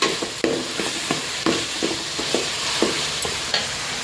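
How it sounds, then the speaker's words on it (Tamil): Onions sauté in a pan with salt as a spoon stirs them, about eight regular scraping strokes over a steady, close sizzle, with no voices. "ஆனியன் வந்து இந்த அளவுக்கு வதங்கிருக்கு."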